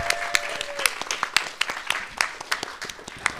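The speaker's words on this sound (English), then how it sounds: "One more round of applause." Audience applause at a live storytelling show, a brisk patter of many hands clapping with sharp individual claps standing out, steady and fairly close for the whole stretch, with no talking over it.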